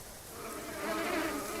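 Bees buzz in a gardening video game, a soft continuous insect drone that swells slightly louder toward the end.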